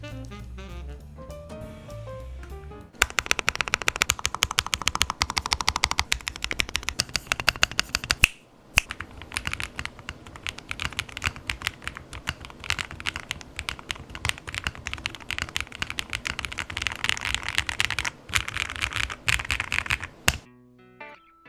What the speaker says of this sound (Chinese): 好，就让我们听看它的打字音吧。